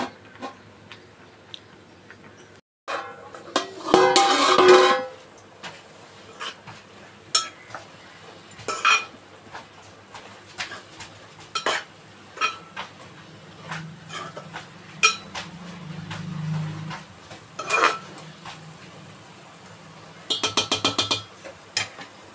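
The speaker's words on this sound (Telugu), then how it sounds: "సో ఇప్పుడు దీనిలో మూత పెట్టేద్దాం." A lid goes onto a pan of frying thota kura (amaranth leaves). A burst of metallic clattering comes early, followed by scattered sharp clinks and taps of cookware in a quiet kitchen, with no speech.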